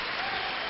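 A crowd at a curling match applauds a shot, a short burst of dense, steady clapping that fills the whole moment without a break.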